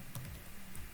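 Light typing on a computer keyboard, a few soft, close key clicks over a quiet steady room hum, with no speech.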